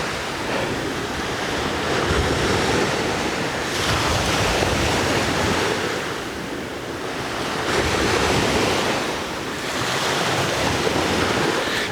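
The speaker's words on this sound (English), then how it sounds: "How the waves just kicked up because of that ship." Ocean waves stirred up by a passing ship, a loud, steady surf wash that swells and recedes in slow surges, mixed with wind buffeting the microphone and no voices.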